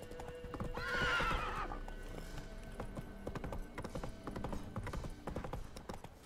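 Roach, a horse in The Witcher 3 video game, lets out a loud frightened whinny over steady hoof clip-clop, then the hooves keep trotting on alone after the neigh fades.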